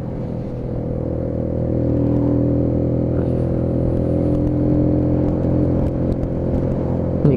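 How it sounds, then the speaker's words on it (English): A Keeway Superlight 125cc motorcycle engine hums steadily while riding through a town, a close, even drone that swells slightly as the bike moves along, with wind noise and no talking. "A lovely sound off this engine."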